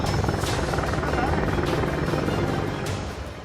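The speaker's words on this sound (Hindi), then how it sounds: "पूरी रात वायुसेना के विमान और हेलीकॉप्टर उड़ान भर रहे हैं" An Indian Air Force military helicopter flies at night from a forward airbase, its steady loud rotor drone heavy in the low end with a rhythmic chop, continuous and close, fading slightly at the end.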